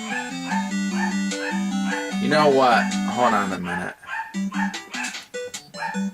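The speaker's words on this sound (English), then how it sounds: "Sorry about the dogs barking," Several dogs bark and yip close by over chiptune music from a Snow Brothers NES game, with someone speaking briefly partway through.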